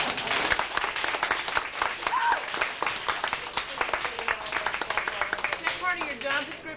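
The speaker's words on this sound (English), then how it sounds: "Let's have one more test applause, please." Staff audience at a 1993 science museum follies show giving a test round of applause: dense, steady clapping that fills the room for several seconds, with a few voices and whoops mixed in.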